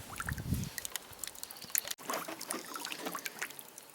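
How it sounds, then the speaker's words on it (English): Water trickling out of a homemade filter built from a plastic water bottle, a thin irregular dribble with small splashes and clicks, close and quiet, briefly cut off midway before resuming. "You can see now that the water that's coming out of the filter is not as brown."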